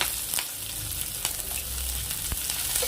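Sliced onions and green chillies frying in a pan for a broad bean masala curry, giving a continuous close sizzle with a few brief stirring scrapes.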